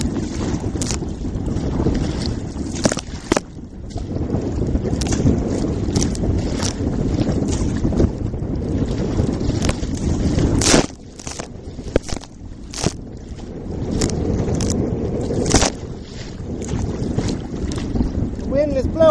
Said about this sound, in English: The wind is blowing now.